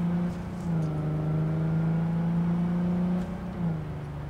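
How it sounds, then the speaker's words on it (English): An Archer Hella EC-D car engine at a hill climb, droning steadily with a thin, strained, thrashy whine, holding a constant pitch as the vehicle pulls away, fairly loud and close. "with a somewhat high-pitched and thrashy engine sound"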